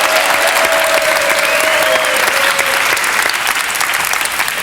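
A French television studio audience applauds steadily and loudly for a guest at a talk show, the dense clapping holding without a break, with no talk over it.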